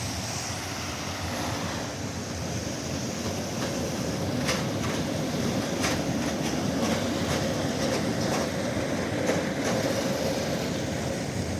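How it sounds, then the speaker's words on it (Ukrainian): A modern tram runs along rails through snowy central Lviv, giving a steady rolling rumble with repeated rhythmic clicks of wheels over rail joints, moderately close and with no talk over it. "давайте подивимось такий теж гарний модний трамвайчик"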